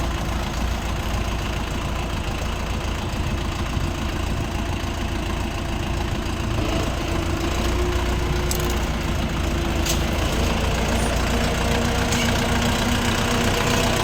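An Orion RF404 four-cylinder all-wheel-drive tractor engine runs steadily nearby, a loud continuous idle with a knocking diesel rumble throughout and no talk.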